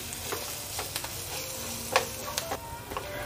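Faint, steady frying of a turmeric spice masala over a low flame for batata vada, with light ticking stirs and scrapes scattered across a quiet sizzle.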